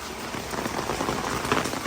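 Heavy rain pours steadily on surfaces outside a house during kitchen renovation work, a dense, loud, continuous hiss with no voices.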